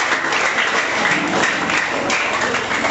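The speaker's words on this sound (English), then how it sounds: "Clap for her" A school debate audience claps for a student debater, giving dense, sustained applause that stays loud and even throughout, with no clear voices above it.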